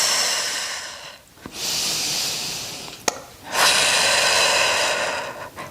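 Two long, forceful breaths, inhaled and then exhaled with a hiss, during a core workout for diastasis recti, close to the mic and loud, with a short sharp click between them.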